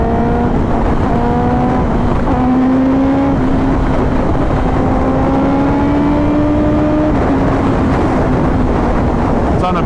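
A 2025 Kawasaki ZX10R sport bike fitted with a full exhaust and a high-flow filter roars loudly and steadily while riding, its engine pitch climbing gradually through the gears under heavy wind rush, with no talk.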